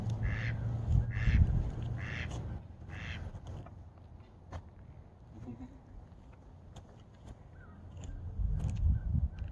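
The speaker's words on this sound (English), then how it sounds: "there's like ducks swimming in the water." Ducks on a river at Salt Creek in a spring valley park, giving a few scattered quacks early on amid outdoor ambience and light wind rumble, with faint distant calls later.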